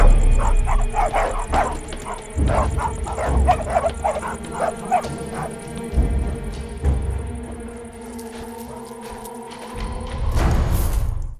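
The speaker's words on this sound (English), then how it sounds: "the child who's terrified of these dogs that are pursuing them" Dogs barking while chasing a terrified child: repeated overlapping barks and yips in a rapid, agitated rhythm, fairly close and loud, fading into a quieter stretch at the end.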